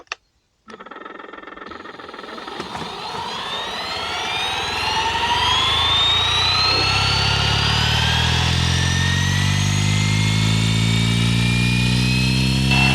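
A Flywing FW450 V3 RC helicopter spins up for takeoff, its motor whine and rotor noise rising steadily in pitch and loudness from quiet to a loud close sustained drone.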